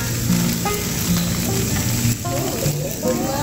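Chicken sizzles on a barbecue grill with a continuous crackling hiss, close and fairly loud, while faint tonal sounds and brief background voices come and go.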